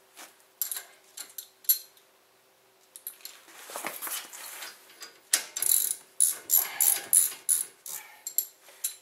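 A hand ratchet tightens the bolts of a Honda brake mounting bracket, giving quick, close clicking bursts in irregular runs with short pauses between strokes, and no talk.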